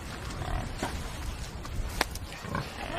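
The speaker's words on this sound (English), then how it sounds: "Pigs look fit." Farm pigs grunt and oink in short scattered bursts over steady outdoor background noise, moderately close, with no talk.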